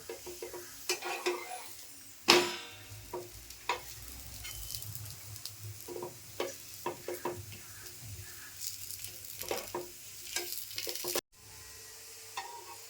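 Ragi dough pieces roast on a hot nonstick pan and are flipped over repeatedly, giving a faint sizzle with scattered scrapes and clicks of a utensil against the pan, quiet and close.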